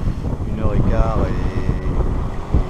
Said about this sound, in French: Maintenant il est sud, il y a beaucoup de vent, pas de mer, on marche à plus de 6 nœuds.